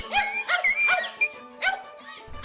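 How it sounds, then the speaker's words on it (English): A dog yelps and whimpers as it flees after an iguana whips it with its tail, with several sharp, close cries in quick bursts. "It's interesting to see a dog running for mercy after being whipped by an iguana."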